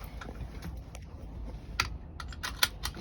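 A truck's in-cab seatbelt buckle is latched and unlatched, giving a few sharp close plastic-and-metal clicks over faint cab background noise.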